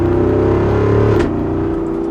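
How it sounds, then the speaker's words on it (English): A 2024 Jeep Wrangler Rubicon 392 V8 drones loud and close under load, then the pitch drops as it downshifts and settles into a deep exhaust rumble. No voices are heard. "downshifting, having those burbles in the back, I mean, wow, this thing is fun to drive"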